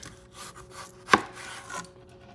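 A knife slices through a large round potato on a cutting board with one sharp, close chop and a short scraping drag, with no voices.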